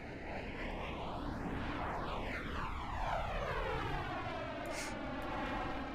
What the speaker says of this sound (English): Very quick takeoff.